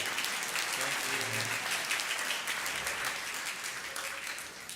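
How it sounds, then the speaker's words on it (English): A crowd at a church gathering applauds for a bishop, a steady wash of clapping from many hands that holds for several seconds and slowly eases off. "Warm round of applause for Bishop Andy Doyle."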